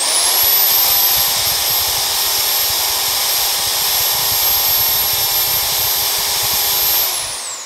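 An ALDO BLT1008 corded electric drill whirs continuously at a steady pitch at low speed, loud and close, running for several seconds before winding down at the end.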